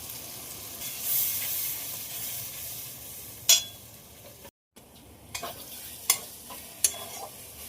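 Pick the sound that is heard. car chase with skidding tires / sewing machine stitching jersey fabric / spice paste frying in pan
spice paste frying in pan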